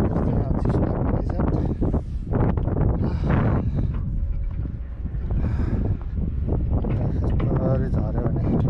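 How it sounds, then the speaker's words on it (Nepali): Strong wind buffets the microphone at a Hong Kong construction site with ladders on a slope, a steady rough roar that runs under a person talking throughout. "हावा चाहिँ एकदम लाग्दो रहेछ यहाँ चिसो लाग्दो रहेछ"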